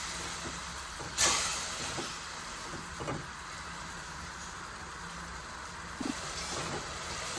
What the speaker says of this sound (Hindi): 1 से 2 मिनट टमाटर को और इसको भूनेंगे